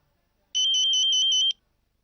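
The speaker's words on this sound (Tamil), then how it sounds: "இங்க பாருங்க, மகேஷ் தான் ஃபோன் பண்றான்." A mobile phone ringtone for an incoming call plays as a rapid string of about six bright electronic pulses for about a second, clear and close in an otherwise quiet room.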